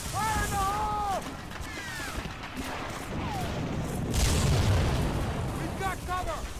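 Explosions and heavy battle noise during a beach assault at a seawall in Medal of Honor: Frontline, with a loud blast near four seconds under shouted voices and continuous rumbling fire.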